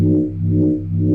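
Soft saw wave synth run through a limiter for a dubstep wook bass, a steady sustained buzzy tone with stacked harmonics and gentle swells in loudness, heard alone.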